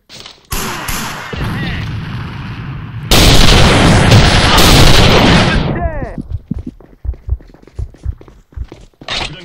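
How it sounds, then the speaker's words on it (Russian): A grenade explosion and gunfire in a video game shooter with a Mosin-Nagant rifle: a sharp shot, then a long heavy blast with rumbling debris, followed by scattered footsteps and small impacts as the noise dies away. "Бросаю гранату!"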